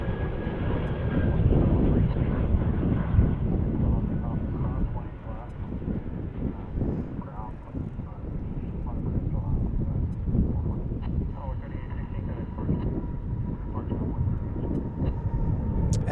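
Airbus A319 airliner moving at DFW International Airport, a broad steady jet roar heard at a distance with wind buffeting, while a person talks over it throughout.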